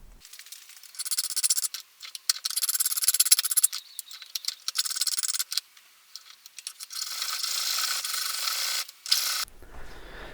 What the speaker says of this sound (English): Okay, so that's all filed down to size now.